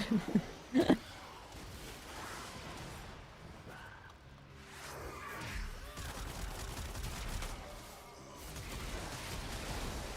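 Gunfire from a gun in the video game Warframe, with a couple of sharp shots at the start followed by quieter, muffled combat noise and whooshing effects.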